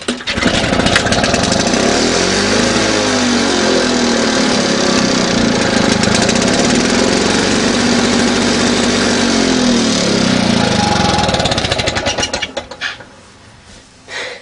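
A small Victa lawn mower engine with a plastic G4 carburettor, running slightly rich at full throttle, roars steadily at high revs for about twelve seconds, its pitch wavering slightly, then cuts out abruptly, leaving near-silence.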